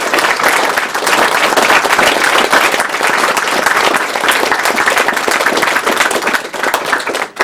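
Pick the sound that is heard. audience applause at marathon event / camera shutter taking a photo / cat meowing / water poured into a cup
audience applause at marathon event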